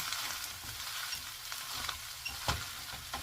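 Rice for pork fried rice being stirred and fried in a pan, a steady sizzle broken by scraping, clattering stirs of the spatula, with no talking.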